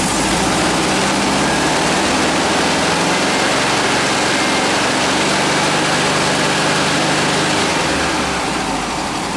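An air-cooled VW engine idles with its generator grounded on the field side for a charging-system test, giving a steady, close, loud mechanical drone with a low throb that carries unbroken for the whole stretch, no talking over it.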